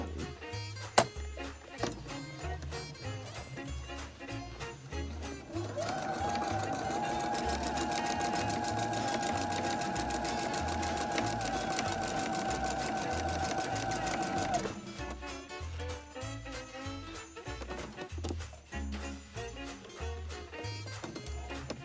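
A sewing machine runs steadily for about nine seconds, stitching the edge of a Christmas napkin near a crossover fold with a slightly longer stitch, a close, even hum between quieter stretches.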